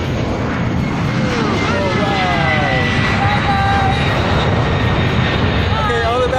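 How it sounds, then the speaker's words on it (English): An airplane taking off at an airport gives a loud, continuous roaring engine rush that fills the whole stretch, with a person's brief exclamation and voices faintly audible under it. "Here's the airplane taking off."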